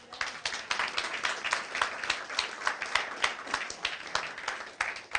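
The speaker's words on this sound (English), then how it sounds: "Can we give a big round of applause to Lisa?" An audience gives a round of applause for Lisa, dense steady clapping from many hands filling the room for several seconds at a moderate, even level.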